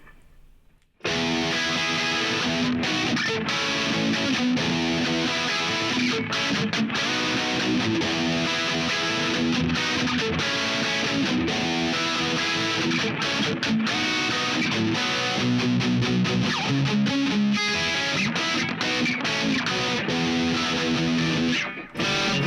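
Heavily distorted electric guitar, a Donner DLP-124S Les Paul style guitar on the bridge pickup with compression and reverb, playing continuously and loudly, with a washy reverb tail and dense sustained chords throughout, no talking.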